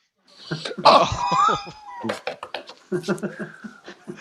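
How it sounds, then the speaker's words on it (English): A harsh cough bursts out near the start, followed by more talking from a nearby voice. "I'm gonna cough"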